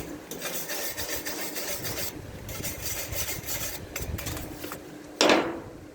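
A wire brush scrubbing metal on the exhaust of a 1998 Dodge Dakota, steady rasping strokes close and loud for several seconds, ending with a sharper scrape, with no talking.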